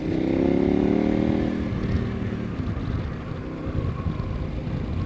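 A KTM 1090 Adventure R motorcycle rides on pavement through a small town. The engine gives a loud, close, rising hum at first, then settles into a rougher, steady rumble with road and wind noise.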